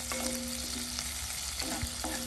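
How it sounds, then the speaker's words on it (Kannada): Giant scampi, or langoustine prawns, fry on medium heat in a pan, giving a steady, dense sizzle with faint stirring clinks. The sound is close and continuous, with no voices. "ಮೀಡಿಯಂ ಹೀಟಲ್ಲಿ ಇದನ್ನ ಫ್ರೈ ಮಾಡುವ"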